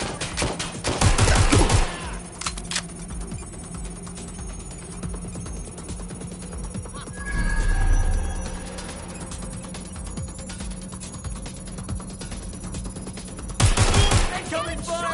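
Bursts of automatic gunfire from the Watch Dogs Legion video game, loud volleys at the start and end with a lull of scattered shots in between, set against a steady game background hum.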